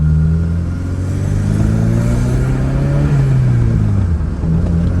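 A K24-swapped Acura RSX pulls away in first gear on a night drive, its engine a loud, close, droning rumble from inside the cabin that rises steadily in pitch as it revs, with no talking.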